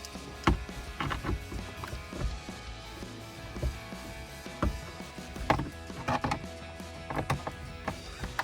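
Torx screws being driven back into a leather-covered center console of a 2007-2013 Chevrolet Silverado, with a series of quiet clicks, ratcheting and knocks spread at an irregular pace, close by and without talk.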